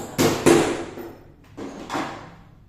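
An electrical conduit pipe is clamped in place during wiring installation: four sharp knocks in two pairs, close and fairly loud, each with a short ringing decay.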